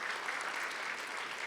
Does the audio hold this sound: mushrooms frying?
no